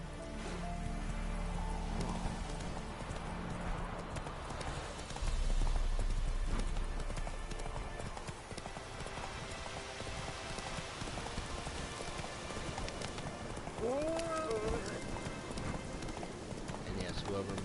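Horse hooves clip-clopping at a gallop in the Witcher 3 video game, a steady rapid beat over rain and ambient game sound, with someone talking over it.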